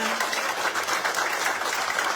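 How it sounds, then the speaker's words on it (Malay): Audience applause at a Perikatan Nasional Sabah campaign rally in Karambunai, a dense steady wash of many hands clapping that fills the whole stretch without pause. "Tolong bagikan tepukan dulu, Bang."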